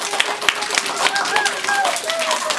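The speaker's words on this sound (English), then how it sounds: "If you like silly stories, clap your hands." Children clap their hands during a read-aloud of a silly story, with a spread of quick, uneven claps heard beneath an adult's voice.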